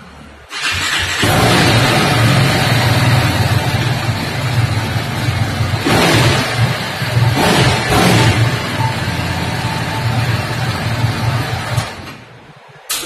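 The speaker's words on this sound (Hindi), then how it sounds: "अब हम लोग सुनने जा रहे हैं RR 310 का स्टॉक एग्जॉस्ट।" A used RR 310 motorcycle with its stock exhaust fires up and idles loudly and steadily at close range for about eleven seconds, with a couple of brief blips in the middle before it shuts off.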